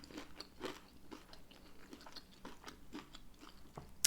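Crispy air-fried hot and spicy chicken wings are bitten and chewed close to the mic, a series of crunchy bites followed by rhythmic crackly chewing, with no talking.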